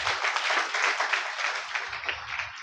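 A church congregation claps together in a dense, sustained burst of applause that fills the room, steady and loud throughout with no break.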